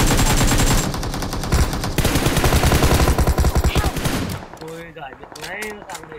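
Rapid automatic gunfire from PUBG Mobile, loud dense bursts for about four seconds, then sparser shots with game effects and faint voices underneath.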